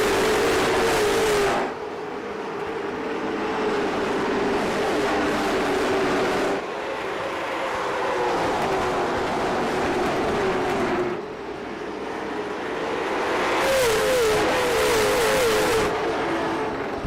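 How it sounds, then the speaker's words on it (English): Race cars roar off the start of an IROC Challenge Series race at Hickory, engines wailing and passing in loud waves that rise and fade over and over as the pack circles. "We wait for Barney to wave the flag, and he does, and we're underway for race number 2"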